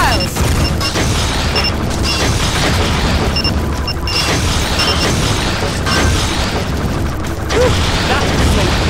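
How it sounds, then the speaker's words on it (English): Missile explosions and mechanical clatter in the arcade shooter Transformers Human Alliance, a dense, loud, continuous wash of booms and rumbling impacts layered over game music and effects. "He is firing missiles!"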